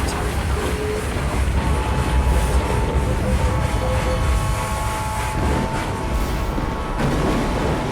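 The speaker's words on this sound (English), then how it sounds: "Trains! They're leaving the station." Trains leaving a station rumble loudly and steadily, with rolling low noise and some clanking, and no voices over it.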